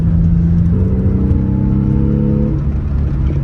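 A Porsche engine pulling uphill in third gear, a steady close rumble that rises briefly in pitch and then settles, with no talking.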